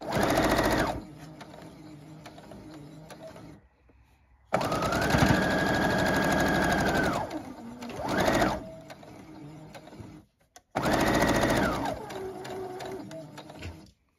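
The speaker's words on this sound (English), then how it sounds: "You do not want to sew through more than your 2 layers." A sewing machine stitches a bear paw quilt block through two fabric layers, running in three loud, steady bursts separated by short pauses.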